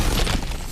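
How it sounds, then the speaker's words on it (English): A brief crashing smash of something breaking in God of War Ragnarok, a short burst of broken debris, fairly loud and heard alone. "back to smashing through things for fun and profit"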